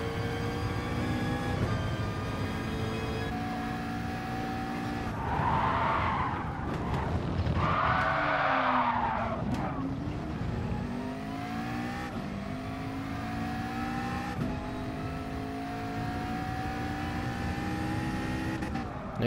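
A BMW E30 racing in Gran Turismo Sport gives a steady, loud engine drone whose pitch climbs and falls through gear changes, with bursts of tyre skidding in the middle. No one talks over it.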